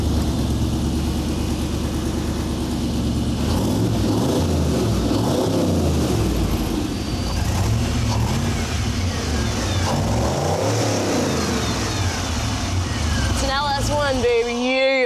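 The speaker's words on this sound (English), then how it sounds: "flip the switches, and hit the key to hear it all fire up." A Poison Spyder Rock Rod tube-chassis off-road buggy engine roars continuously, its pitch rising and falling as it revs hard, with a rough, throaty rumble close by.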